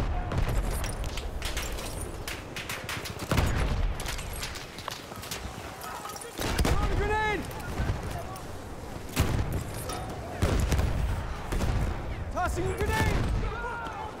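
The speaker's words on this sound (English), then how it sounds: "Oh, the grenades and the guns and everything." Bursts of gunfire and grenade explosions in the video game Battlefield 1 crackle and boom in dense, irregular volleys, loud and close, with someone talking over the battle noise.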